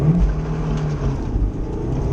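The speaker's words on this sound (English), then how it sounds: "A little too much wheel spin there" An autocross car at a regional solo event launches hard off the line with too much wheel spin, its engine roaring loud and close throughout, no talk over it.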